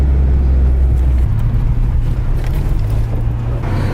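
A Nissan 240sx driven on country back roads, its engine a steady low drone with road and wind rumble filling the cabin, continuous and close throughout.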